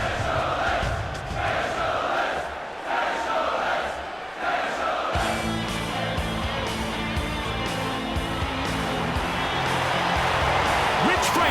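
Arena crowd noise from the UFC 24 video game, a steady loud roar of spectators that swells and keeps going throughout, with no talk over it.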